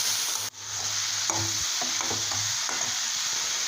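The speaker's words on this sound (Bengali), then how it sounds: "আবার খানিকক্ষণ সমস্ত সবজি ভাজা ভাজা করে নেব।" Mixed vegetables with capsicum and onion stir-frying in a pan, a continuous close sizzle with a few scraping stirs of a spatula across the metal, no voices.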